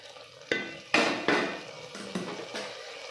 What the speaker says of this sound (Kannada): ಇದೆಲ್ಲ ಒಗ್ಗರಣೆ ಮಾಡ್ಕೊಂಡಿರೋದನ್ನು ಹಾಕ್ಕೊಳ್ಳೋಣ